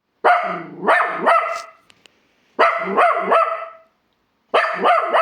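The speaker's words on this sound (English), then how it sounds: "He barks at everything and everyone." A dachshund barks in three bursts of rapid, high yappy barks separated by short silences, close and loud.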